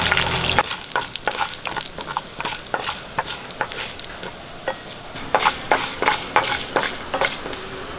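Urad dal crackles and sizzles in hot coconut oil, with frequent sharp scrapes and taps of a spoon against the pan, close up.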